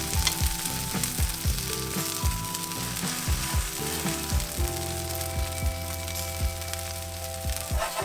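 Birria taco frying in its juice in a pan, a steady close sizzle with repeated spatula taps and scrapes throughout, no talking.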